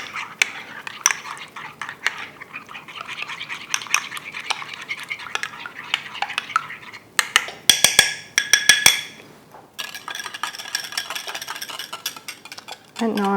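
Hot liquid being stirred into gelatine for a Bavarian cream, a steady run of whisk or spoon scrapes and clinks against a bowl, with a few sharper metallic taps partway through, close and moderately loud.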